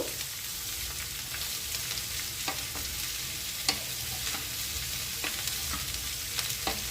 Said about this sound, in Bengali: এবার তেলে খুব ভালোভাবে চিচিংয়েগুলো ভেজে নিচ্ছি